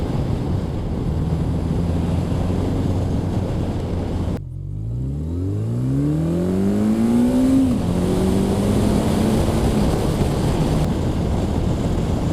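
An inline four-cylinder Honda CB1100 RS motorcycle runs on the road under heavy wind rush, with a steady engine drone. A gear change cuts the sound briefly, then the revs rise smoothly and settle.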